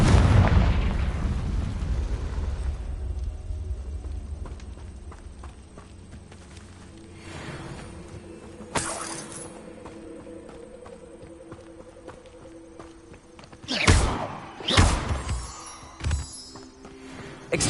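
Confringo spell explosions in Hogwarts Legacy: a big rumbling blast at the start, then a sharp crack and a quick cluster of loud bangs later over a low ambient background.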